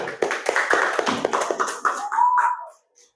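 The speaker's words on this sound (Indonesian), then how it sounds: "Oke, tepuk tangan." Students in a classroom clap for a group that has just finished its presentation, a brief burst of hand claps with a few louder taps, then a short pause near the end.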